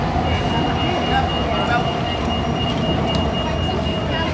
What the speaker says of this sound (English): How many other places can you see a train racing through the heart of the city centre?